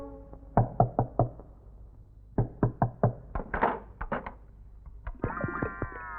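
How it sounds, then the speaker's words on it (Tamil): Knocking on a door in a Tamil comedy scene: bursts of three to five sharp raps in quick succession, repeated several times close by, with a brief tonal effect at the end. "எவ்வளவு நேரம் தட்டிக்கிட்டு இருக்கேன், கதவு திறக்கவே மாட்டேங்குது."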